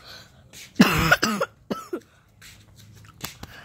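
A few harsh coughs from a sick person burst out close by, followed by a couple of quieter throat-clearing sounds with soft breathing in between.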